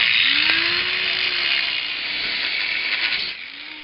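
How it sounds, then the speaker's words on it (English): High-pitched whine of a power tool cutting through the CV axle shaft of a Toyota Camry near the transmission, loud and close, its pitch rising and sagging under load, no talking. "now we're going to start that cut on that CV axle pretty close to the transmission"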